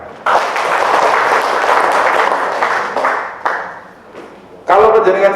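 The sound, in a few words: audience applause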